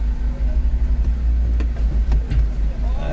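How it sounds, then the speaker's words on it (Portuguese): A delivery truck passes close by, a steady low engine rumble with mid-range motor noise that swells and fades over a few seconds, fairly loud with no talk over it. "E olha o caminhão de entrega aí."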